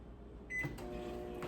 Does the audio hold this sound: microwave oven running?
yes